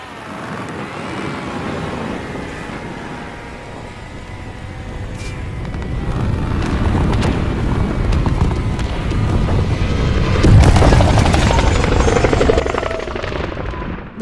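In the video game Call of Duty Modern Warfare, helicopters are rammed amid a heavy rotor and engine roar. The roar builds gradually louder, with rushing wind and scattered clanks, and peaks near the end.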